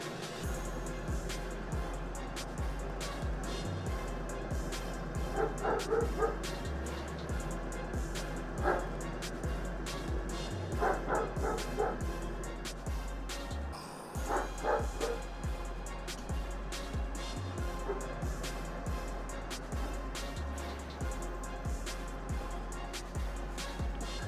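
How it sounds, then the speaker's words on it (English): Dogs bark and yip a few times in short bursts against a constant low background rumble, moderately near, with some faint whimpering. "and there are my dogs"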